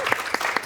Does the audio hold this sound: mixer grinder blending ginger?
no